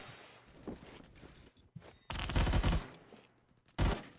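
Suppressed VSS rifle in Phantom Forces, sharp muffled bursts of automatic fire in two loud clusters with quieter clicks and movement between them.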